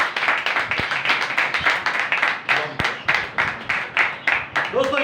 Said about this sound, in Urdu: میرے یسوع کے لیے ایک بار زوردار تالیاں